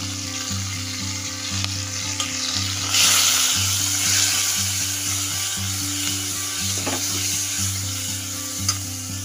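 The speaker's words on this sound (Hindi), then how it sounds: "अब इसमें ये खीमा डाल देना है मटन का।" Steady frying and sizzling of mutton mince in a pan, with a continuous hiss and occasional stirring scrapes, close up and fairly loud.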